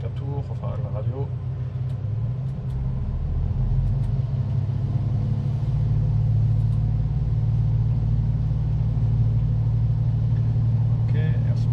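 Aircraft engine in an ALSIM flight simulator during the takeoff roll: a steady, loud droning hum that builds slightly and then holds, with a voice speaking briefly at the start and end.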